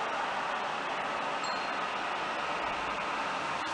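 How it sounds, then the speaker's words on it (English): An air conditioner runs outside by a balcony garden with herbs, a steady broadband hum and hiss that holds evenly throughout with no talking. "That's the air conditioner you might be hearing."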